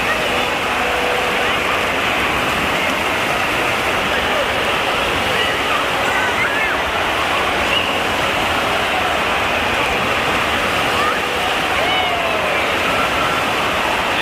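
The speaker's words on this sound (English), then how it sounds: "The waves have started." Steady rushing, churning water from a wave pool at the Wilderness Resort in Wisconsin Dells fills the whole stretch, loud and continuous, with faint crowd voices mixed into the roar.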